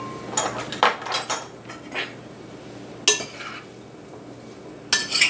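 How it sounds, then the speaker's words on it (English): Blueberries are stirred with cornstarch in a bowl using a utensil, producing several close scraping clinks in short bursts separated by quiet pauses, with no talk. "And then you mix it up to get that cornstarch distributed through your berries."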